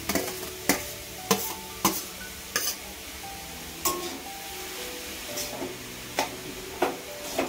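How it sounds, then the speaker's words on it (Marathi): Grated carrots roasting in ghee in a pan over a high flame, with a steady low sizzle and sharp, regular clinks of a spoon against the pan as they are stirred, no talk. "चांगला सुकेपर्यंत जरा भाजून घ्यायला पाहिजे गाजर।"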